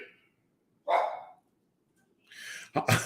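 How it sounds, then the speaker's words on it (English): A dog downstairs in a house barks a few times, muffled and somewhat distant, with gaps of quiet between bursts. "I was going to yell down and tell the dog to shut up"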